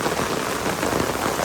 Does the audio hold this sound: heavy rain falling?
yes